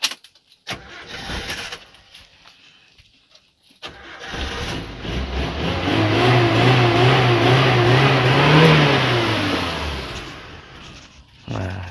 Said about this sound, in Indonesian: Sebentar tak hidupkan dulu mesinnya ya.